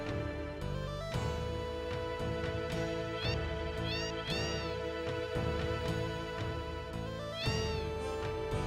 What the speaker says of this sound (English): there's a cat in the way right now.